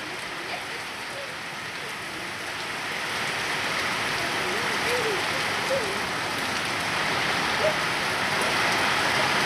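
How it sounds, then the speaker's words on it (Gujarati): Steady heavy rain in a windstorm pours down in a continuous dense hiss that swells slightly partway through, heard from indoors, with no voices. "જોરદાર વરસાદ પડે છે. વાવાઝોડું ફૂલ વાવાઝોડું છે."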